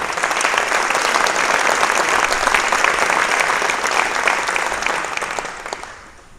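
A church congregation at a class of 2021 graduation Mass in Wildwood, New Jersey, breaks into dense, sustained applause for the graduating class. It is loud and continuous, then fades away in the final second.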